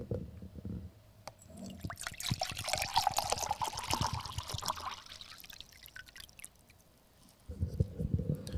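Water pours into a red mug, with a gurgling trickle that rises in pitch as the mug fills, faint and close, with handling noises before and after.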